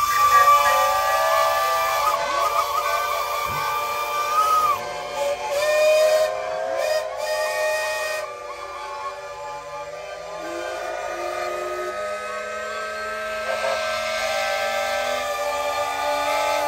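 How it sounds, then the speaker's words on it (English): Several steam engine whistles blow together at a steam festival in long, sustained shrieks, overlapping in different pitches, loud and close with a hissing edge, fading and returning. "engine men and ladies, if you would kindly sound your whistles on the count of three"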